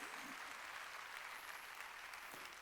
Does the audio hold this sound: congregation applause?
yes